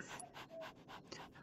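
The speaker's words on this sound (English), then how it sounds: "I can pet the dog. Good boy." A dog in a video game pants rhythmically while being petted, with quick, close, breathy puffs about five times a second and no talk.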